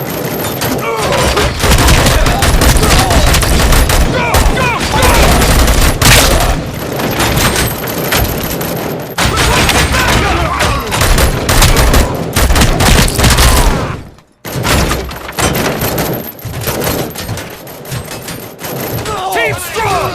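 Relentless gunfire from the video game RoboCop: Rogue City during a bank heist, loud sustained bursts and booming shots filling the scene with barely a pause, a brief gap near the end, under shouted game voices.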